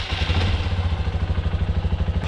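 A Honda CRF150 motorcycle engine idles while warming up, close and loud with a steady, rapid thumping pulse and light mechanical clatter, and no one speaks.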